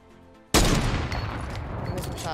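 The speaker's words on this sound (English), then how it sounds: "Heavy sniper is going to do 150 damage at long ranges." A loud, sudden heavy sniper rifle blast in the video game Fortnite, a single sharp shot followed by a long, dense rumbling tail of echo and gunfire noise.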